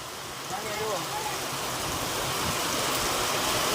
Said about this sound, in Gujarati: મસ્ત મજાનો વરસાદ પડી રહ્યો પવન સાથે